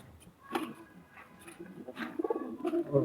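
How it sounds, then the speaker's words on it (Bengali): An old-breed pigeon gives a few soft, rolling coos close by, short and repeated, in an otherwise quiet setting. "এই একটা কবুতর আছে পুরোনো জাতের কবুতর"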